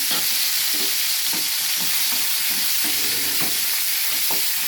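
Vegetable pieces fry in a pan with a steady broadband sizzle, while a spoon stirs them in a series of soft, regular scraping strokes close by; no one speaks.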